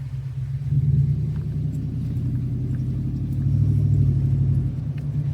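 A Ford Explorer in 2-wheel drive rolls through mud, its engine a steady low rumble heard from inside the cabin, swelling slightly as it pushes through before settling.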